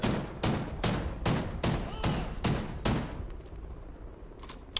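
Assault rifle fire in a first-person shooter video game: a loud, evenly paced string of about eight single shots, each with a short ringing tail, followed by a quieter stretch.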